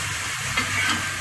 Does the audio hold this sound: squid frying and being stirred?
yes